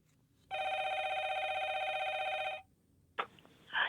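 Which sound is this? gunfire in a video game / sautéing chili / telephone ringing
telephone ringing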